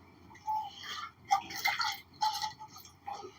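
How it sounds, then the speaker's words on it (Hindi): Milk poured into a pan of sugar syrup and water for a tamarind and plum sharbat, giving several short, close splashy liquid bursts separated by brief pauses, with no one talking. "अब साथ ही हम इसमें दूध डालेंगे"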